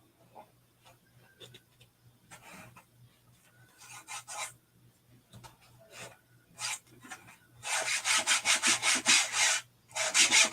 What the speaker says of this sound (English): So I'm just going to burnish that down, making sure I have good contact with the board